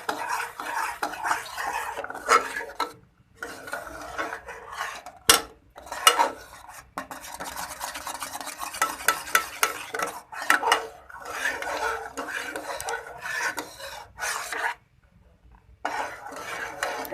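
Milk being stirred in a pan over a low flame as it cooks down into homemade condensed milk, with a spoon scraping and clinking against the metal in steady, close strokes and brief pauses.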